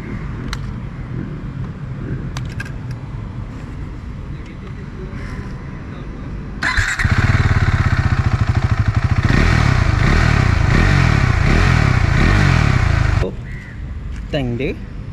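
A KTM 390 Adventure single-cylinder engine with an aftermarket exhaust idles, then revs hard for about six seconds with a loud, raspy rising and falling roar before dropping back to idle.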